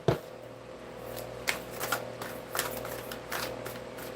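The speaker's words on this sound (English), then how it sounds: "let me get you some good shuffles in" Crisp riffling bursts of tarot cards being shuffled, several quick shuffles in a row with soft slaps between them, close up over a steady low hum.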